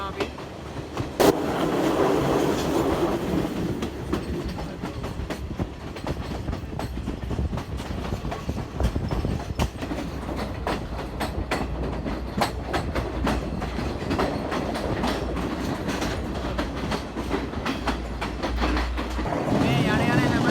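A train rolls along its rails on a hill-country journey through pine forest, a steady close rumble with rhythmic clickety-clack of wheels throughout and occasional speech underneath.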